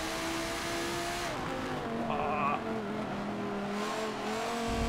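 A limousine racing in Forza Motorsport 7, its engine droning steadily with gear changes and rising revs, tires briefly squealing, loud and continuous under talk.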